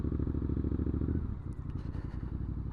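An older Triumph Bonneville motorcycle engine runs at a steady, throbbing idle close by, the low rumble easing slightly toward the end with faint mechanical ticks.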